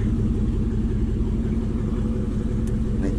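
Ford Mustang being driven slowly into a home garage after washing, a steady low engine rumble close by with no revving or talk.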